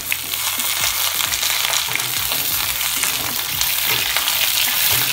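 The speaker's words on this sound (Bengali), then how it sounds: "এবার আলু বেগুন একটু হালকা করে ভেজে নেব" Potatoes and eggplant fry in a pan with a steady, loud sizzle, accompanied by occasional stirring scrapes and no talking.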